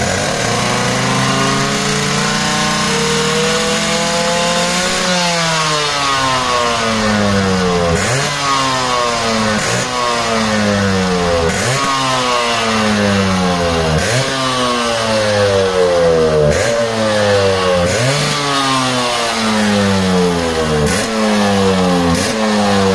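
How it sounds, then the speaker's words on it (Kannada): A Yamaha RX135 two-stroke motorcycle in top condition, revving loud and close in repeated rising-and-falling bursts, its crackly buzzing beat climbing in pitch with each throttle blip, with no talking. "ಯಮ ಬೀಟ್ ನೋಡಿ, ಇದನ್ನೇ ಮೇನು, ಯಮ ಬೀಟ್ಗೋಸ್ಕರನೇ ಎಲ್ಲರೂ ಈ ಗಾಡಿ ಹುಡ್ಕಾಡ್ತಾ ಇದ್ದಾರೆ"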